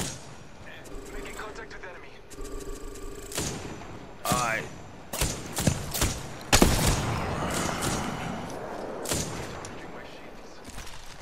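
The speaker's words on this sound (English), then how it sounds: "Shots fired" Gunfire in the battle royale game Apex Legends: several sharp shots crack out at uneven intervals over a steady background of game ambience, some close and loud, others more muted.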